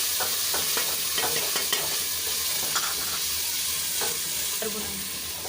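Ginger and garlic frying with already browned onions in a pan for a Kari Pakora recipe, a steady close sizzle with repeated scraping stirs, no talking.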